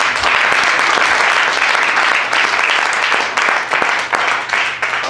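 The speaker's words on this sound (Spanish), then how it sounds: "Denle un aplauso a él." A church congregation applauds loudly during a Spanish-language sermon on repentance and baptism, dense sustained clapping filling the room for several seconds and thinning slightly toward the end.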